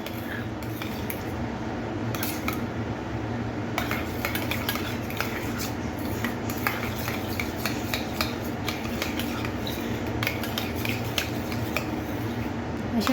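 Tomato sauce mixture stirred in a pan for bread pizza pockets, a spoon scraping and clinking steadily against the metal with frequent small taps over a constant low background hum.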